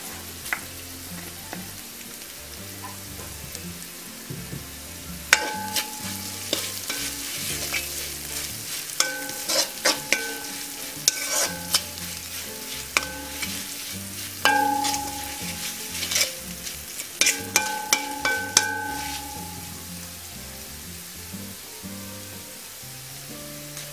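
Green chillies stir-fried for chickpea kottu, a steady close sizzle with repeated scraping and clanking of a utensil against the pan, the clatter growing busier through the middle.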